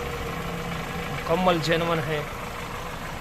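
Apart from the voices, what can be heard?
Toyota Corolla 86 original petrol engine idling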